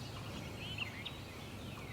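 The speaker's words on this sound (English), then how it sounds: "and the turkey's gobbling" Faint, distant gobbling from a wild turkey in the Tennessee countryside comes through a steady outdoor background hiss, with no voices.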